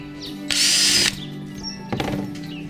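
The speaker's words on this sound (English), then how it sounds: "Drill your next hole." A power drill whirs in a short, loud burst drilling a hole in a kayak, followed by a few clicks and a brief rattling mechanical sound.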